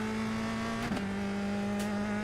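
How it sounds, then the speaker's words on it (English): A race car engine in an iRacing sim holds a steady high-pitched drone while climbing a hill, with a brief rev shift near the middle and no talking. "You can hear it in the revs coming up the hill."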